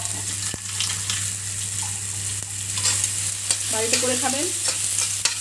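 Mashed potato filling of red and regular boiled potatoes for aloo paratha being stirred and mixed, a soft continuous scraping and stirring with a steady background hum and brief clinks, and one person speaking briefly.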